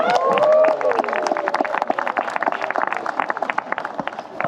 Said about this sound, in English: can we give our dogs a big round of applause?